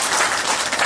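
Audience applause at a public debate forum, a dense, steady burst of clapping from a seated crowd lasting under a second, fairly loud and without voices.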